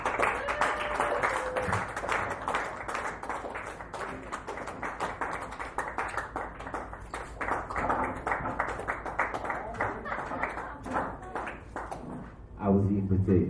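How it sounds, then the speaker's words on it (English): Comedy club crowd in a dive bar applauding a stand-up comedian, dense sustained clapping with a few cheers, loud and close, running for about twelve seconds before fading as a voice begins speaking. "Another round of applause for Bruce McCarthy!"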